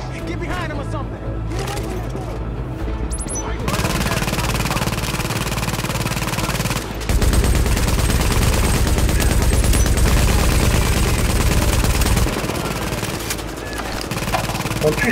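Rapid gunfire in the video game Tom Clancy's The Division as enemies shoot at a deployed turret, dense bursts of shots that grow heavier and louder partway through, mixed with game effects and a player talking.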